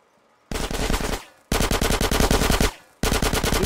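Automatic gunfire from Grand Theft Auto: San Andreas rattles in three loud, rapid bursts separated by short silences, each a dense stream of closely spaced shots.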